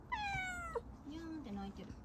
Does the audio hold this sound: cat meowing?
yes